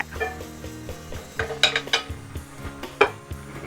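Spaghetti noodles are tossed with melted butter in a pan, giving close, irregular clinks and scrapes of utensils against the pan over a faint sizzle.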